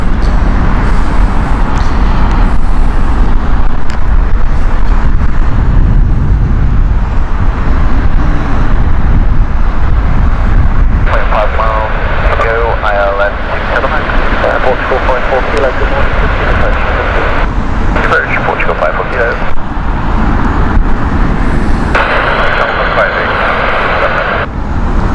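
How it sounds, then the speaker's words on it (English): Eurowings Airbus A319, built in 2008, passes at Heathrow Airport with a loud, steady jet engine roar that holds throughout, with people talking over it. "Eurowings Airbus A319, this one."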